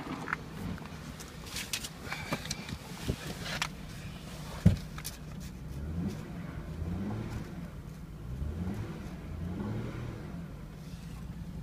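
The 3.5 engine of a 2006 Saturn Vue runs at a steady idle with a few mild revs, a low, even hum heard close in a quiet shop with one sharp knock.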